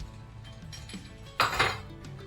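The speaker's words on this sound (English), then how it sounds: "Get your melon baller or measuring spoons. Scoop it round, nice big circle." A metal melon baller scrapes and scoops the core out of a halved pear, making soft close scraping and light clinking sounds, with one brief louder scrape in the middle.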